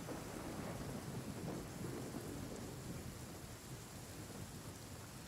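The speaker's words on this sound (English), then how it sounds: "Don't stay out in the rain for too long." Steady rain with rumbling thunder from the Genshin Impact game world, a dense constant wash of noise that stays loud and unbroken throughout, with no voices.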